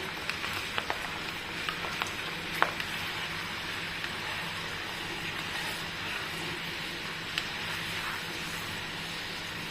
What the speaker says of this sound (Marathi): बघा अशी मंद आचेवरच एक 5 मिनिटासाठी तळून घ्यायची.